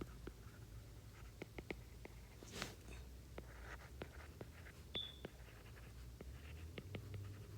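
Marker or pen writing on a board or tablet during a lesson on aircraft ascending and descending, faint scratchy strokes and taps spread irregularly over a quiet room hum.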